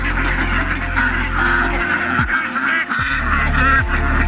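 A flock of farm-raised ducks quacks and honks nearby, a dense, loud chorus of overlapping calls with a low rumble underneath that drops away midway.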